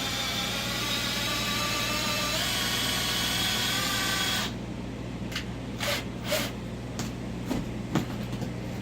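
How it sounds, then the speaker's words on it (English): Power drill twisting wires for a bushcraft snare, a steady whirring grind for several seconds that then stops, followed by a few brief scraping and rattling handling sounds, close up and with no talking. "we'll hook it up to the drill. And we'll twist these wires all up nice."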